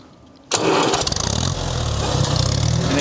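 A 1973 IH Farmall 140 tractor engine catches abruptly after a quiet moment and roars up loud and close, then settles into a steady, throbbing run with a slight dip in pitch.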